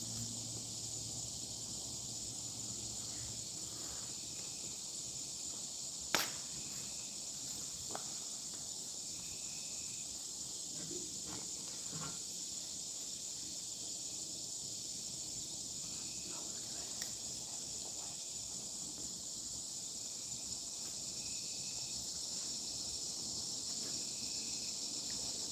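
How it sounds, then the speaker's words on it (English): Crickets and cicadas chirping outdoors at dusk, a constant high shrill drone with a second steady chirring layer underneath, broken by a few faint rustles and soft footsteps. "It's mostly crickets and cicadas now."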